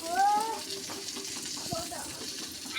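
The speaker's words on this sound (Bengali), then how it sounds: "কড়াইয়ের মধ্যে তেল দিলাম" Hot oil sizzles in a kadai during Bengali fish-and-potato curry cooking, a steady close hiss that runs the whole time, with a brief voice near the start.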